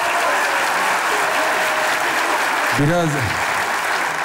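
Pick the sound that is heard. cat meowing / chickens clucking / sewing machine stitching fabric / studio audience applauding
studio audience applauding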